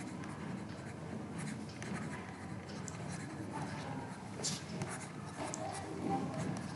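Steady scratching and tapping of writing on a board in a classroom maths lesson, a continuous soft scraping texture running close by without pause.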